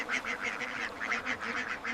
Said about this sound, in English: Magpie ducks enter water with obvious pleasure, stepping off the bank and immediately beginning